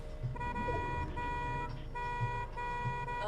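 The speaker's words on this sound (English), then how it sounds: "What's the beep noise?" Electronic beeping during a co-op video game session, a repeating toned alert with steady harmonic pulses recurring about every second and a half, held at a constant level with no talk over it.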